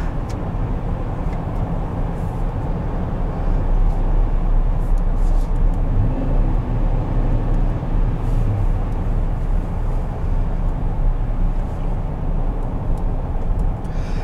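2021 Chevrolet Traverse AWD Premier under full-throttle acceleration, a loud, sustained engine roar over tire and road rumble from inside the cabin, with no voices.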